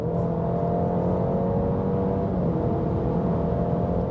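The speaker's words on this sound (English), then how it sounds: "One more acceleration, let's go." An Italian car accelerating hard, a loud, steady engine drone with a slowly shifting pitch heard from inside the cabin, continuous and without talk.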